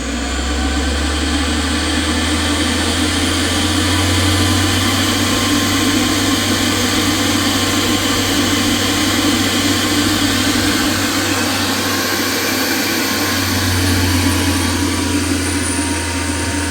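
An Ebmpapst RG148-type blower fan for 80-200 kW boilers, run by a compatible driver board, roars with a steady, loud, broadband rushing hum and a constant low tone, unbroken throughout.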